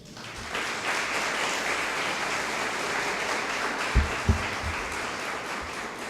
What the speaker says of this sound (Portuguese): Você pode glorificar a Deus com as suas palmas?